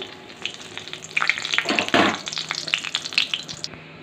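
Bay leaf, cinnamon, cloves and peppercorns frying in hot oil for a cauliflower, potato and green pea curry, close crackling sizzle that swells midway with sharp pops and spits, then settles.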